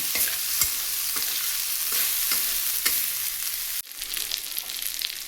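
Boiled chickpeas being stirred in a hot pan, a steady sizzle of frying with repeated scraping strokes of a spoon throughout, briefly dipping before the sizzling resumes, no talking.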